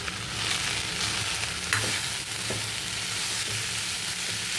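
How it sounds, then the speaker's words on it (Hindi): Aloo green garlic sabzi, with potatoes, greens, tomatoes and chilies, sizzles loudly in a pan over high heat. The frying hiss is continuous and close, broken by occasional scrapes of a spoon as it is stirred. "अब दोबारा से इसे ऐसे ही हाई हीट पे 2 से 3 मिनट पकाएंगे।"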